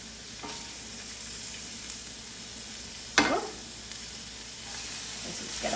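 Shrimp sizzle in a hot pan with a steady frying hiss, broken by one sharp crackling burst as another piece goes in.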